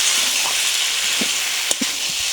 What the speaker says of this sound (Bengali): শুকনো লঙ্কা লবণ দিয়ে নিয়েছি, হালকা একটু কষিয়ে নেব।